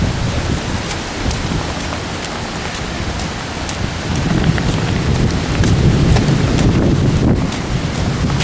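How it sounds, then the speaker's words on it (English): Steady heavy rain pouring under a dark early-morning sky with low rumbling thunder and gusts of wind buffeting the microphone, the downpour growing louder partway through. "And here comes the rain."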